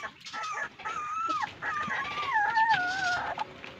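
A German Shepherd dog whimpers and whines in a series of high, wavering cries that slide up and down in pitch, fairly close and continuous, with no talking.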